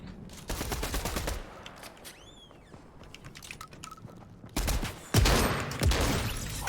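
Video game gunfire of a six-round revolver, with bursts of loud sharp shots and a fast clattering volley, mixed with other game effects and brief tonal chirps in between.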